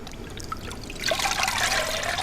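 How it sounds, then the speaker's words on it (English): Water drains and trickles from a homemade sandpaper mold. It starts with a faint dribble, then swells into a steady, close splashing flow about halfway through. "Let all the water drain."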